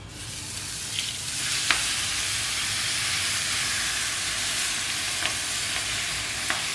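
Spinach hitting a hot frying pan of crisped food, a steady close sizzle and hiss throughout with a few brief louder crackles, no talking.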